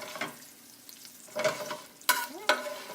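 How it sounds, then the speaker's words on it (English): Bell peppers hitting hot olive oil in a pan still holding bits of Italian sausage, giving several close bursts of sharp sizzling and crackling, each rising and fading within a short span. "you're going to use this exact pan as is to cook these peppers"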